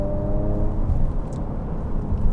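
Ford Edge ST engine revving after a paddle-shift downshift, a steady low rumble with a brief harmonic rise early on, heard from inside the cabin with no talking.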